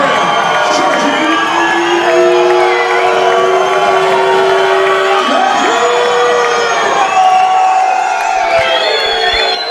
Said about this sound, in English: Georgie's brought the local crowd to their feet